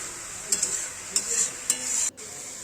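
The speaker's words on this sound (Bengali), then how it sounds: "দিয়ে ভালো করে নেড়ে ছেড়ে সব কিছু একসাথে মিশিয়ে নেব।" Boiled cabbage frying in a pan, a steady high sizzle broken by three short scraping stirs, then the hiss cuts out abruptly near the end.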